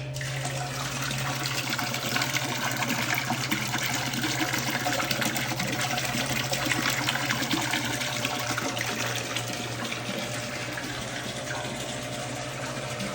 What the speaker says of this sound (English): It's actually pretty quiet, doesn't make a lot of noise, obviously besides the water splashing